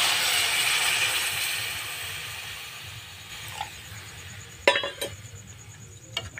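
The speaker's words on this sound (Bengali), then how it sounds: "এবার আমরা দিয়ে দেবো পরিমাপ মতন জল" Water hits a hot pan of frying chicken and mushrooms for soup, giving a loud hiss that fades into a gentle simmer, followed by a few sharp clinks of a utensil against the pan.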